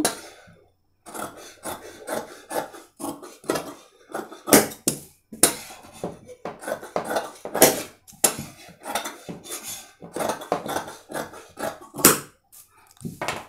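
Scissors snip through blouse fabric along the armhole in repeated sharp cuts, each stroke a crisp metallic shear with faint rubbing of cloth between, close and loud with no voices.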